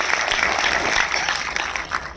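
Clapping from an audience at a direct selling award function in New Delhi, a dense steady patter of many hands that fills the whole moment at moderate loudness.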